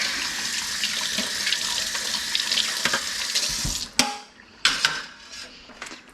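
Tap water runs steadily into a kitchen sink while a garlicky utensil is washed with soap, followed by the tap shutting off and a few sharp clanks of the utensil, close and alone.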